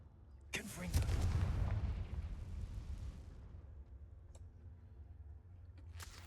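A Confringo blasting curse from the Hogwarts Legacy video game bursts into a loud, close explosion with a sharp crack and a rolling rumble that fades over several seconds, then a faint sharp pop follows near the end.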